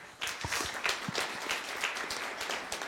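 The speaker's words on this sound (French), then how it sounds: "On peut l'applaudir, s'il vous plaît." Audience applause fills a live masterclass event hall, steady clapping from many hands starting abruptly and holding at an even level throughout, with a few sharper individual claps standing out near the front.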